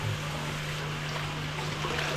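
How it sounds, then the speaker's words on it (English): Water runs steadily from a barber's sink tap while hair is washed at a Toni and Guy salon in Pakistan, a continuous close hiss with a low mechanical hum beneath it and no talking. "Time to wash the hair."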